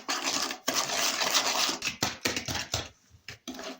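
Sugar, vanilla sugar, salt and eggs being stirred in a bowl, a busy run of clinking, scraping strokes that turn choppy and intermittent toward the end, no voices.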